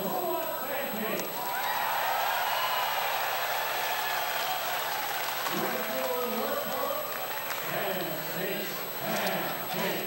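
Ballpark crowd at a Winnipeg Goldeyes versus Fargo-Moorhead RedHawks minor-league game cheers and claps steadily, hyped by the public address announcer, with a broad roar of voices and scattered shouts throughout.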